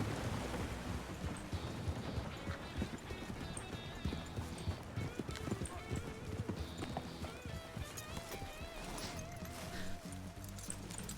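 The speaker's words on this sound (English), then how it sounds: "That's a strong looking steed." Horse hooves clip-clop steadily in the Red Dead roleplay game, a strong-looking steed's footfalls thudding in a continuous rhythm over a dense ambient bed that includes rain-like noise.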